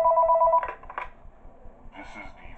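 A phone rings inside the video game Five Nights at Chuck E Cheese's, with a short ring burst at the start that fades into quieter noise.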